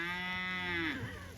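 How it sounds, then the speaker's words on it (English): A single long, loud moo from a cow on a farm where cattle are eating honey locust pods, a steady close bellow that bends downward at the end. "I'm going to continue watching the cows eat honey locust pods."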